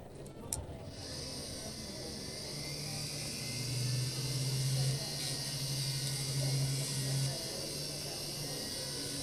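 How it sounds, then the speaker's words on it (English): A rotary cylinder burr grinds metal from between stones in jewelry French setting, a thin high whir humming steadily with faint swells, while someone speaks nearby at a bench demonstration. "the fastest way to do that would be with a cylinder burr that just is going to get a lot of material removed quickly"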